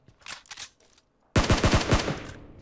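A couple of faint distant shots, then a loud close burst of rapid automatic gunfire in PUBG Mobile, several sharp cracks in quick succession with no talking.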